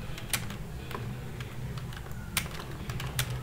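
Typing on a computer keyboard while composing Urdu text in InPage 2009, heard as a steady run of close, crisp key clicks with a few sharper louder strokes and no voices.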